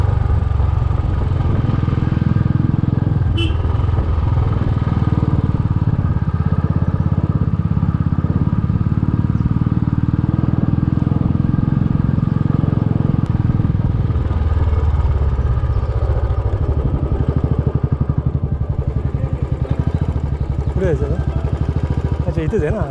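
Motorcycle engines run steadily on the ride to Rajapur Ganga, a continuous mid-pitched rumble with road and wind noise throughout, and voices talking over it.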